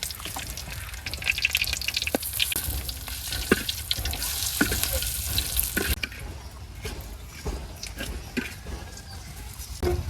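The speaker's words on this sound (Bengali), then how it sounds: "কটা মরিচ টেলে আর একটু তেল দিয়ে দিলাম মরিচ দিয়ে দিলাম" Green chilies sizzle in hot oil in a pan just after prawns were fried, a steady crackling fry with scattered sharp pops and stirring scrapes throughout, close and moderately loud.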